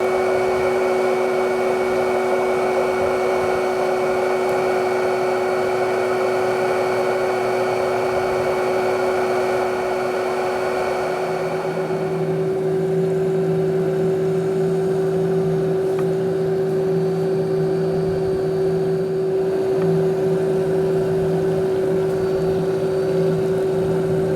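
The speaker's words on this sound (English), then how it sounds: "So now we're going to start the vacuum" A Matala Power Cyclone pond vacuum hums steadily for the whole stretch in an 8,000-gallon pond, with a steady tonal whine that drops in pitch partway through, continuous and fairly close.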